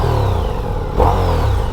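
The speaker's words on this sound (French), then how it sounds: "Ça prend des tours tout seul," A 2026 Ducati Diavel V4 motorcycle engine revs up, a loud, steady close mechanical drone that swells sharply near the middle before settling back to a high idle, with no talking.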